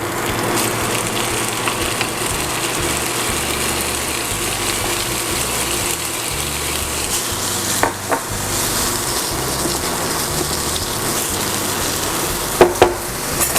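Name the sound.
spinach frying in butter in a pan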